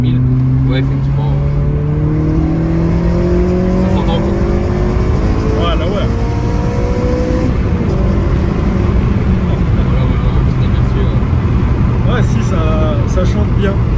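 A Honda Civic Type R FN2, right-hand drive, revs hard toward 9000 rpm, its engine tone climbing steadily in a loud, sustained rising whine with road noise underneath, and someone talks over it.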